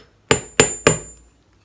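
A hammer strikes a metal needle three times at an even pace. Each hit gives a sharp, bright metallic clink with a short ringing tail, alone in a quiet room.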